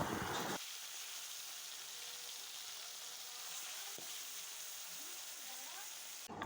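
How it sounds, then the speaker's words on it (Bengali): Pieces of rohu fish fry in hot oil, a steady broadband sizzle that holds from start to finish at an even level with no talking. "তুলে নিয়ে আরও যে আমার মাছ আছে সেগুলিকেও এক এক করে তেলে দিয়ে খুব ভালো করে নাড়াচাড়া করে লালচে লালচে করে ভেজে নেব।"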